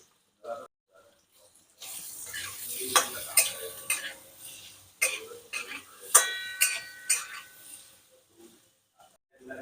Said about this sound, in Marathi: दोन मिनिटापर्यंत पनीर परतून घेतलं गॅस मध्यम आहे